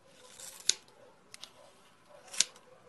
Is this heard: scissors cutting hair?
yes